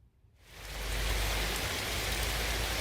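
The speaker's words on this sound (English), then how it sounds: "you can hear the rain. This is where we're at. This is what landscapers have to put up with on a day-to-day basis. Look at the rain bouncing off that table there." Heavy outdoor rain at a landscaping site, bouncing off a table, rising within half a second from quiet to a loud, dense, steady hiss of drops, close and without talk.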